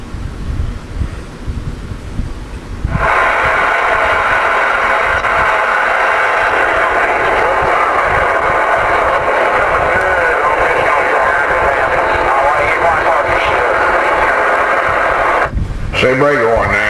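A Cobra 29LX CB radio receives on-air audio: a steady loud hiss and static carrier with faint wavering tones, after a short stretch of quieter rumbling noise, ending with a brief dropout.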